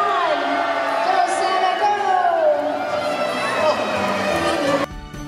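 A crowd cheers, whoops and shouts for a person dressed as Santa Claus, a steady, loud mass of voices that holds for about five seconds and then cuts off abruptly.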